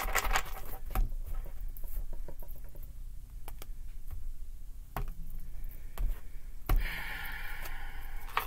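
Dry papery rustling and irregular soft slaps of tarot cards being shuffled, with a few sharper clicks scattered through, close and fairly quiet.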